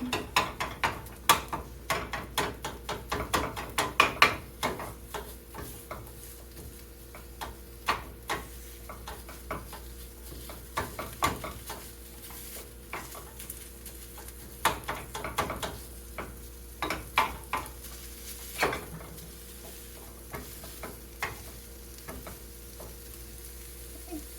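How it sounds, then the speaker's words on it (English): Sausage sizzles in a frying pan as a utensil scrapes and chops at it, producing irregular close clicks and scrapes over a soft steady fry. "I'm going to break this sausage up."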